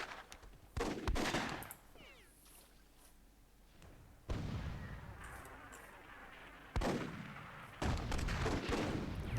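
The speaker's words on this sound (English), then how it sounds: "Nice cannon shot from Kryptos" Repeated booming blasts of cannon fire with crackling impacts in the video game Myth II: Soulblighter, several heavy shots spaced a few seconds apart over a rumbling battle background.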